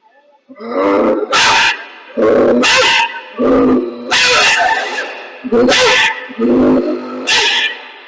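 A voice imitates a dog barking, loud and close, with about six rough, drawn-out barks in an uneven rhythm, one after another.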